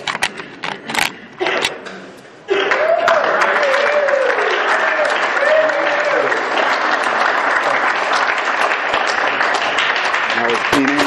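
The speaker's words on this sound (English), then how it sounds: "Give everyone a round of applause" Sustained applause from a group honoring sobriety chip recipients at a recovery meeting, starting after a few scattered claps and brief voices, then steady and fairly loud throughout, with a faint whistle-like voice rising over the clapping.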